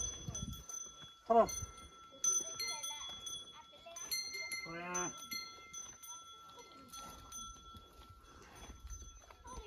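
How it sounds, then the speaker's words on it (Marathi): Small neck bells clink irregularly among grazing village cattle on a trek near Palpeshwar, Wai, Satara, with a low moo and someone talking over the scene outdoors. "इथल्या गावातली लोक बघा गुरं चारायला घेऊन आली आहेत आणि त्यांच्या गळ्यातली घंटा इतका सुंदर आवाज येतोय"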